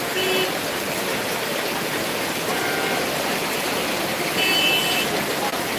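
Heavy evening rain pours down outside a shop as a dense, unbroken roar of falling water, loud and steady throughout with no pauses.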